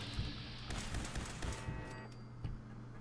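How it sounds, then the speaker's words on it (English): Rapid modded-weapon gunfire in Fallout 4 rattles out as a dense, continuous burst of shots, loud and close, with no talking over it. "So many shots."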